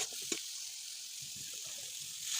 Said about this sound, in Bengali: জল দিয়ে দাও